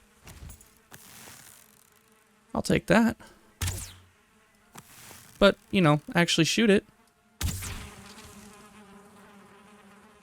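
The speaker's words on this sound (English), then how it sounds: "Do I hear a beehive?" Bees buzzing around a beehive in the Black Forest area of the game Valheim, a steady insect drone running under bursts of someone talking and other game sounds.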